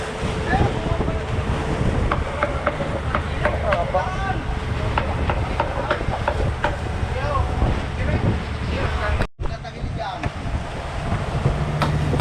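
Steady roar of wind and rushing water with a constant engine-like drone, riding on a storm-damaged boat at sea; voices murmur underneath.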